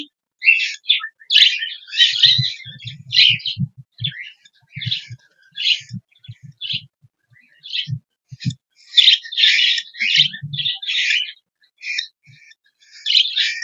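Budgerigars chirp and twitter in quick, busy bursts, with soft lower warbles and clicks scattered among the bright calls. The cage birds sound close and steady, and no one speaks.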